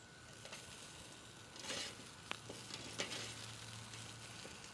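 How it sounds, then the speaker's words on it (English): Okra pods charring over direct heat on a grill, giving a steady close sizzle and crackle with a few sharp pops and brief tong clicks scattered through. "Our okra is getting nicely charred like this."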